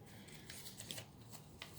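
Quiet riffling of a deck of cards being shuffled, a few soft crisp bursts close by.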